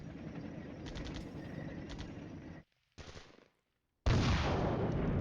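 Enemy artillery fire striking tanks in the wargame Flashpoint Campaigns: Southern Storm, heard as bursts of dense rumbling explosions that cut off abruptly twice, then return as a loud, heavy barrage.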